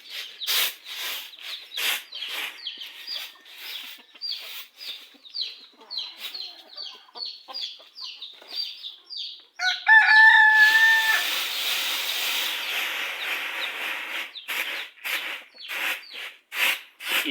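Farmyard chickens cluck and chirp in quick repeated bursts, with a rooster crowing loudly and close by partway through, set in a rural home in Houaphanh province, Laos.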